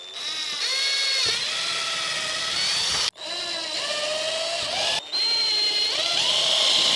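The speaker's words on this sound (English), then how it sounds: "I drilled all the 3 primary corners" A power drill bores holes through a jig in three bursts, its whining motor rising and holding pitch, each run stopping abruptly before the next starts.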